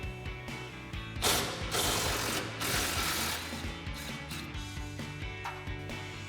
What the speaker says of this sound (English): use your 10mm socket and extension on your impact and unbolt it